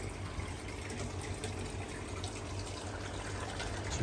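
Water trickles steadily into a koi pond, a continuous close, bubbling splash with an even, unbroken flow and no voices.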